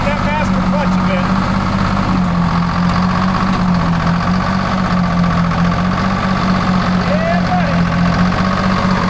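The engine of a 1940s crane that had sat unused for over ten years runs at a steady, loud, low-pitched chug with a faint knock, while someone speaks briefly over it.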